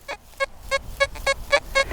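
A metal detector in a UK field gives a quick run of seven short, evenly spaced buzzing tones over moist ground, slightly flat in pitch and close, with no talking.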